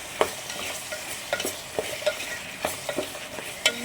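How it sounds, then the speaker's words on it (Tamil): Vegetables sautéing with onion and tomato in a pan for karuvadu kolambu: a steady background sizzle with irregular stirring scrapes and clicks of the utensil against the pan, close up and with no talk. "காய் போட்டு ஒரு வதக்கு ஒரு நிமிஷம்."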